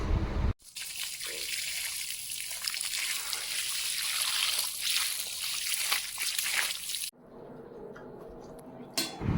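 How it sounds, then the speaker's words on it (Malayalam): Cassava being washed in water, with continuous trickling, sloshing and splashing for several seconds. A muffled clink of a vessel is heard before the sound drops to a quieter background near the end. No one speaks. "കപ്പ നല്ലപോലെ കഴുകി എടുത്തിട്ടുണ്ട്"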